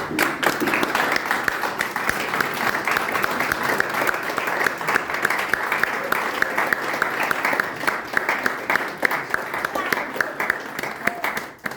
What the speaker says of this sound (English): please stand up and give a big round of applause for Toastmaster